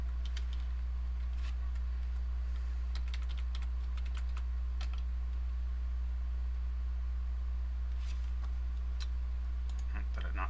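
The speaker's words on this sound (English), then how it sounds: "Oh, I typed something wrong." Fast, light clicking of keys on a computer keyboard, coming in short irregular bursts over a steady low electrical hum.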